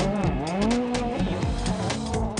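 Østberg's rally car spinning on a tarmac stage during the 2012 World Rally Championship, engine revving hard with rising and falling pitch and tire squeal, loud and close throughout.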